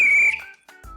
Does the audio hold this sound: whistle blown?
yes